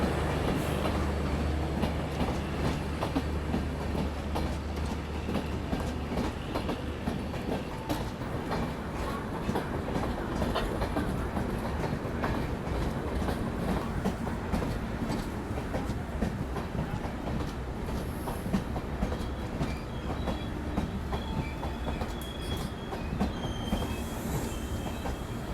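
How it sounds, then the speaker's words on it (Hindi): The Madar–Kolkata passenger train rolling past on the rails, with steady clickety-clack, rumbling wagons and intermittent wheel squeals, moderately loud and continuous throughout. "नहीं, ये गुड्स ट्रेन तो नहीं लग रही है।"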